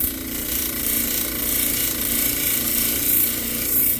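A belt sander grinds and polishes a large agate, the abrasive belt working into a small cranny; a steady, loud mechanical whir with gritty rasping runs throughout, no voices.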